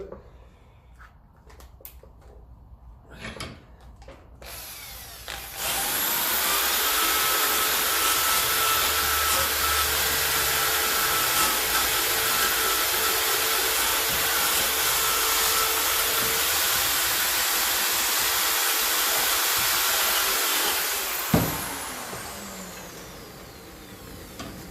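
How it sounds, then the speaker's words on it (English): A ten-year-old Bosch power drill runs in a workshop where a 1954 Ferguson 20 TEF diesel tractor is being restored. After some clatter, it whirs in one continuous, close, even burst of about fifteen seconds, then winds down with a clunk. "Ten-year-old Bosch drill."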